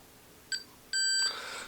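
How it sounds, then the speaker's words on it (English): A multimeter continuity tester beeps as it is checked through a coil of a Lafayette HE 40 radio: one brief clipped beep, then a longer steady tone, clean and close in a quiet room. "can we get a beep all the way through our coil?"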